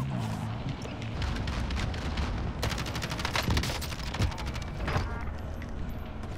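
Rapid bursts of gunfire and explosions from Call of Duty Modern Warfare Plunder mode rattle in quick dense volleys through the match, with occasional voices over the game sound.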